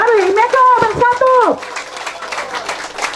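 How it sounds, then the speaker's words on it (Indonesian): Applause for Dr. Ferdinand at the Imeko community farewell-and-welcome gathering in Sorong breaks out after a voice speaks over the opening, then continues as a steady, moderately loud patter of clapping. "Tepuk tangan yang meriah"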